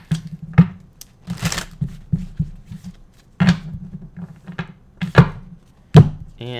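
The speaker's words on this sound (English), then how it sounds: "2 more shuffles." Tarot cards shuffled by hand during a reading, a run of irregular papery riffles and soft thumps against the table, close and moderately loud, with brief pauses between bursts.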